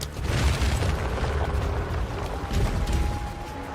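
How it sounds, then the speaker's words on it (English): Shocking turrets in a roguelike video game fire lightning projectiles, giving a continuous loud rumbling, crackling barrage of electric blasts and booms with a faint steady tone underneath, no talking. "dealing with the lightning projectiles from the shocking turrets"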